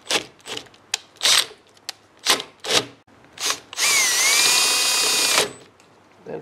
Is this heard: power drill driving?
yes